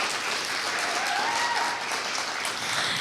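An audience at a talkback event for Black Milwaukee businesses applauds, a steady, dense wash of clapping that holds for a few seconds, with a faint voice calling out partway through.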